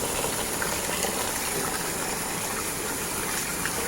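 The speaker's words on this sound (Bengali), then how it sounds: "তো চালটা ধুয়ে নিচ্ছি।" Parboiled rice being washed for khichuri under running water, a steady close rush and splash of water with no pauses.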